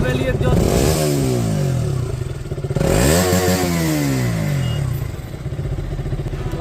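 Motorcycle with an underbelly exhaust running close by, a loud steady engine rumble with two swells of revving that rise and fall before it settles back.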